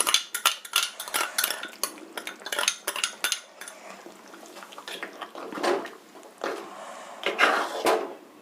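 Ground paste of coconut, tomato, onion and cumin goes into kuzhambu simmering in a pot, with clinks and scrapes of a metal spoon against the vessel, close and fairly quiet, in bursts with short pauses.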